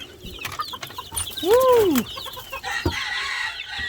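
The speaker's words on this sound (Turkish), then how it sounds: "Bu arada şöyle civcivlere dalalım mı?" Chickens and chicks in a Bursa poultry coop cluck and peep in a busy chorus, with one louder drawn-out call standing out near the middle and faint background noise throughout.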